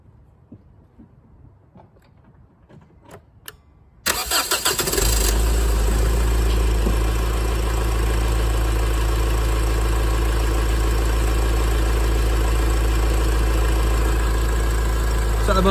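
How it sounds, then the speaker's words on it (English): A car engine is cranked after a few faint clicks, catches abruptly, and settles into a loud, steady idle at close range during an alternator test. "So let's start the car and see what we get."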